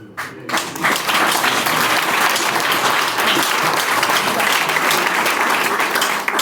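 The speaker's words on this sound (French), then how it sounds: "Moi aussi je demande d'acclamer" An indoor hall audience at an evening product-training session in Togo claps steadily and densely, a full, loud burst of applause sustained for several seconds with no talk over it.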